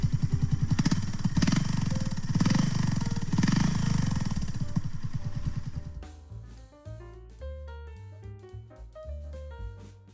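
A BSA Bantam motorcycle engine runs up close with a steady, rapid putter for about six seconds, then gives way to something else entirely.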